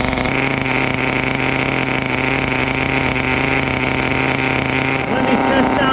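Vintage Kyosho FW-05T Ferrari 575 GTC nitro RC car engine running loud and steady near the microphone, a continuous buzzing idle that rises in a brief rev near the end.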